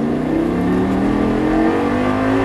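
Lamborghini Gallardo LP 560 engine accelerating on a race track, a loud steady rising drone with layered harmonics held throughout without a break.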